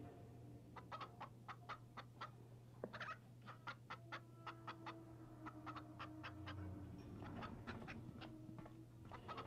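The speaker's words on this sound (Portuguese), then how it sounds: "Galinhas." Chickens in the video game Rule of Rose cluck in quick repeated bursts over a steady low hum, fairly faint and continuous throughout.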